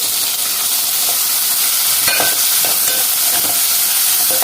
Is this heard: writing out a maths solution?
no